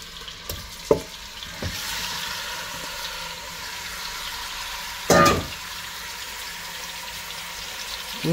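Meat goes into a pot with about four spoons of oil for a cheap Romanian sour soup, and a soft ongoing sizzle follows, broken by a few sharp clatters and one louder scraping burst of stirring, with no talking.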